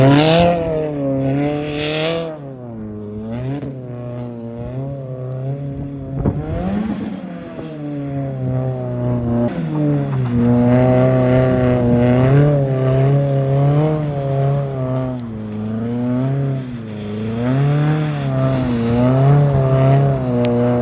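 A 400 hp Subaru WRX being driven in a snowy parking lot, its engine revving up and down in long continuous sweeps, loud and close, with no voices.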